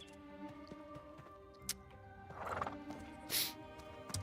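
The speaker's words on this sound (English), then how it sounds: "I really should get on the horse for this, shouldn't I?" A horse in the video game Ashes of Creation whinnies, with soft clip-clopping hooves and small ticking sounds under a steady game background, all fairly faint.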